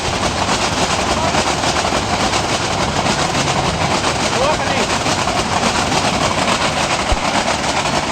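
Broad, continuous rumbling roar of a local train rolling past Arikhola railway station, steady and loud with a dense rattling texture.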